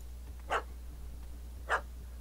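Two short, faint puppy barks spaced about a second apart in The Witcher 3 video game, over a low steady hum.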